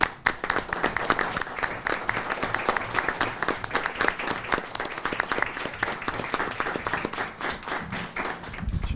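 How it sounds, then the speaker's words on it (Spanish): Applause from an audience at a formal agreement-signing ceremony, steady dense clapping that holds strongly across the whole stretch, close and loud, with no talk over it. "les pedimos un aplauso"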